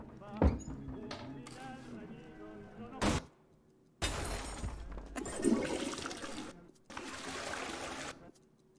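Toilet flushing in the Twelve Minutes video game, a few separate rushing bursts of water with short clunks between them, fairly quiet, with people talking around them.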